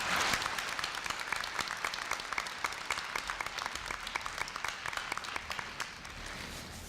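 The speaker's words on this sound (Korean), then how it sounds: "큰 박수로 맞이해 주시기 바랍니다" Audience applause fills a university freshman entrance ceremony hall as a guest speaker, a company vice president, is welcomed to the stage; dense, steady clapping from a large crowd continues throughout without speech.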